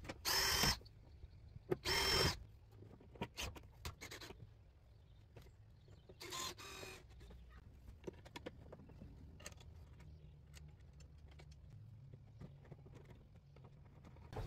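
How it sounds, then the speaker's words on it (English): A power drill whirs in a few short bursts, pre-drilling holes in plywood, with pauses and quieter handling clatter between them, no talking. "I'm gonna pre-drill them"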